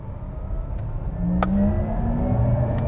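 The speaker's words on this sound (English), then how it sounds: "give me 2 rips, 1 in sport and 1 in sport plus, just so we can hear the interior audio" Inside a 2020 Porsche Taycan Turbo S electric sports car, a synthetic electronic whine climbs in pitch over a low rumble as it accelerates in Sport then Sport Plus mode, with a sharp click partway through.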